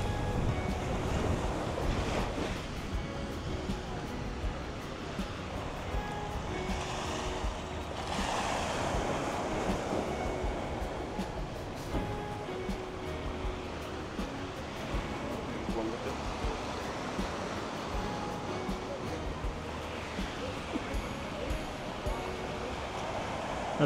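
Ocean waves below a seaside viewpoint at Camara de Lobos on Madeira, a constant roar of surf with swells rising and falling, mixed with wind buffeting the microphone and occasional voices in the background.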